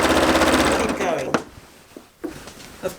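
A sewing machine stitches a waves quilt, with a loud rapid needle rattle that stops after about a second, followed by scattered handling knocks as the quilt is shifted.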